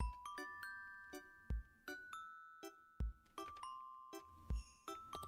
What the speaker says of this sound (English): Bell.